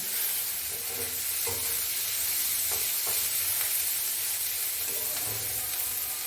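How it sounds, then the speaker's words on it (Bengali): Chopped onion, curry leaves and a little panch phoron sizzle in hot oil for a fish curry: a steady, close frying hiss with a few soft clicks and scrapes of stirring. "এবার লাল লাল করে এই পেঁয়াজটা ভাজা"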